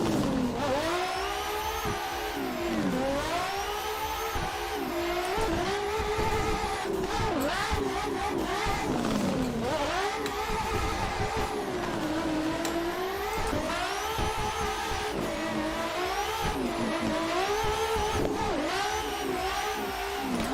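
A race car engine in the Assetto Corsa simulator drones loudly and continuously through a lap, revving up and dropping back repeatedly as it shifts gears and brakes into corners.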